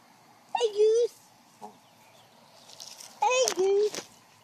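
Geese in a flock honk in two loud bursts of harsh, nasal calls, with a brief quieter call between them, close by and outdoors with no talk over them.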